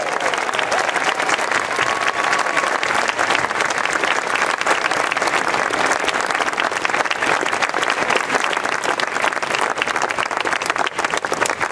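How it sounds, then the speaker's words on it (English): A large audience at a 2015 graduation ceremony gives the graduating class sustained, loud applause, a dense, even roar of clapping that carries on without a break. "please stand up so we can give you a wonderful round of applause"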